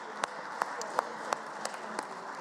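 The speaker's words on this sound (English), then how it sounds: "I would request you that we give a hand of applause to the Secretary General" Assembly delegates applauding the Secretary General and his team at an international parliamentary session in Geneva, a thin, scattered applause with a few distinct sharp claps standing out, moderately distant.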